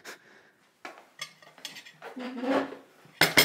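Dishes and plates clattering in a home kitchen, with intermittent clinks and scrapes building to a loud clatter at the end.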